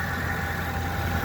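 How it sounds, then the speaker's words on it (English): A 2013 Ford Econoline van engine idles steadily, a smooth, low continuous hum with a faint mechanical rumble and no speech over it. "With the motor running."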